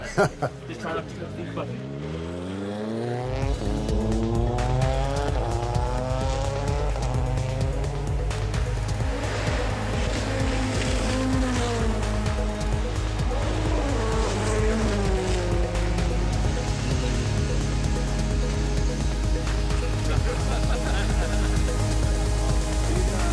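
A Toyota WRC rally car drives with a loud, steady engine roar and rising then shifting gear tones, running continuously close by for most of the run after a quiet start, with voices talking underneath.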